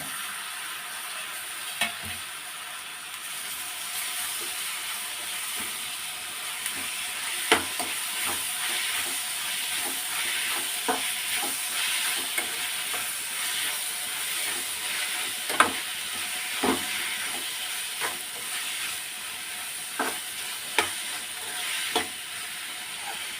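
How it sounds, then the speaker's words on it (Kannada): Tomatoes sizzling in hot oil with fried onions for an egg masala gravy, a steady close frying hiss broken by scattered crackles and spatters with occasional stirring, no voices. "ಟೊಮೊಟೊ ಸೇರಿಸಿದ್ಮೇಲೆ ಅದು ಎಣ್ಣೆ ಬಿಟ್ಕೊಳ್ಳೋವರೆಗೂ ಫ್ರೈ ಮಾಡಬೇಕು"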